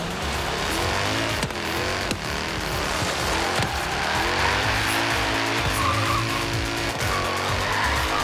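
A car in Forza Horizon 3 skidding with no grip on rough terrain, tires squealing in long wavering tones over a loud, continuous engine roar with occasional bumps.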